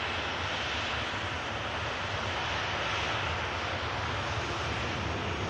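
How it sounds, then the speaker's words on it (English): A Ryanair airliner arriving from Cork at Manchester Airport gives a steady, loud broadband jet roar that holds constant through the whole stretch, with no voices over it. "Ryanair just arrived in from Cork."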